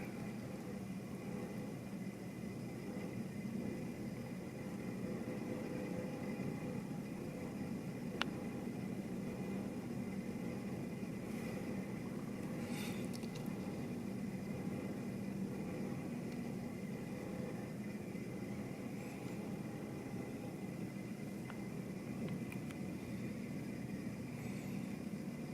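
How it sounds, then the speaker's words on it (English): Boat engines run quietly in a continuous faint, even drone, distant and unbroken, with no voices present. "Engines are quite quiet though, that's good."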